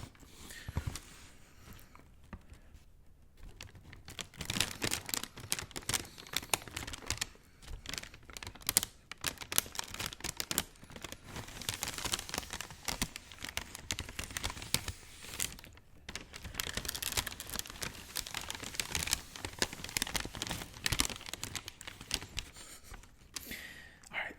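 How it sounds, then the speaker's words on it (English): Packaging paper crinkling and rustling while a shoe box is unboxed, dense continuous close crackles over about twenty-four seconds, loud and busy with brief lulls, a soft voice occasionally underneath. "let me open them and give you some crinkles"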